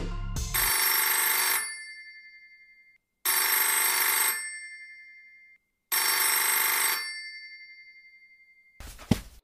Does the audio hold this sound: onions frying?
no